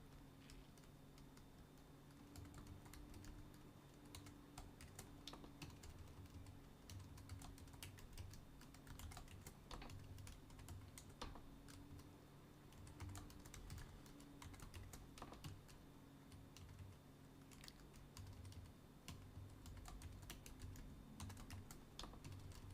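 Steady computer keyboard typing, close and quiet, a long run of rapid key clicks over a low electrical hum, no talking.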